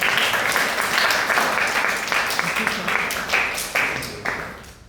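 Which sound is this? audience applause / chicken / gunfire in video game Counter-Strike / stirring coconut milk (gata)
audience applause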